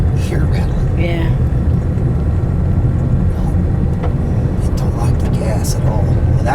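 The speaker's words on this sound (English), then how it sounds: "Oh, that motor's rattling. It don't like that gas. It's rattling." A 2009 Toyota Corolla engine with low-compression cylinders runs rough on low-octane gas, giving a loud, continuous close rattle and rumble with voices talking over it.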